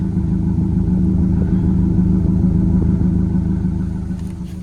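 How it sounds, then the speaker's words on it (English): A 1996 Ford Ranger pickup's 2.3-liter four-cylinder engine idles and rumbles steadily with a deep, throaty exhaust drone through a stock 4.0-liter Ranger tailpipe, close and loud, easing off slightly toward the end. "let's get this exhaust tone"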